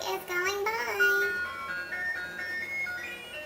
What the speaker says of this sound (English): The ice cream truck is going by.